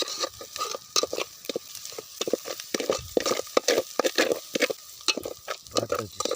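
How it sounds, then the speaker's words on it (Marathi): Eggs being stirred into spiced masala in a pan for an egg bhurji-style mix, cooked outdoors in a forest: repeated close scraping and clinking strokes with a light sizzle underneath, steady and busy throughout, with no talk. "आपले हे अंड टाकले ना भोडून ते चांगलं आपल्याला मिक्स करून घ्यायचे जसं आपण अंडा भुर्जी करतोय तसं"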